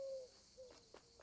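A Eurasian collared dove calls softly in the game Alba, giving a brief low coo followed by a couple of faint, muffled notes against a hushed background.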